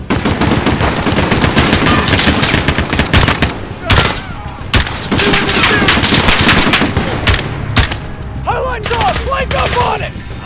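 Machine gun fire in Call of Duty: Modern Warfare, rapid loud bursts of automatic shots close by with short pauses between them, while soldiers shout over the battle.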